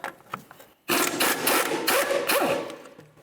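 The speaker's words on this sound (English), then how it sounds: "So I'm just going to go ahead and hold the bolt side with my 19mm wrench. We'll loosen up the nut side." A 19mm wrench loosens the nut on a rear strut bolt of a 1999-2003 Toyota Solara, a sudden close grinding creak of metal turning that lasts about two seconds before tapering off.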